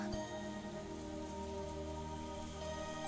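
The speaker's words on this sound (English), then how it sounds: "As we listened to the sound of the rain" Rain falls in Umineko as a steady hiss of drops on a surface. It stays soft, even and unbroken, with a faint tonal hum underneath and no voices.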